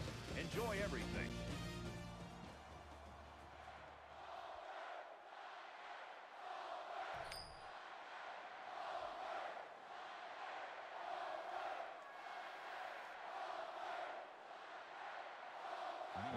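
A video game stadium crowd roars and rumbles steadily before kickoff at a college football game, Florida at Auburn, a dense distant wash of noise after a brief musical sting at the start.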